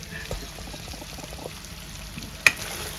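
Quiet frying sizzle as onions, green chillies and curry leaves cook with chicken, with a soft stir and one sharp clink near the end, a voice talking faintly over it.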